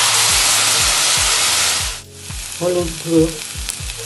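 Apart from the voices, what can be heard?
kohlrabi frying in pan with onion and tomato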